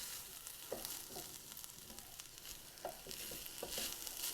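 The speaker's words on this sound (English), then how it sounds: "I'm going to let this kind of toast up a little bit in with the oil" Rice toasts in oil with onions and garlic in a skillet, a quiet, steady sizzle and crackle broken by a few soft stirring scrapes, with no talking.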